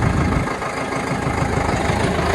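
A Sonalika 60 RX tractor engine, pulling a field leveler, runs steadily at close range, a loud, continuous low rumble and chug with no pauses.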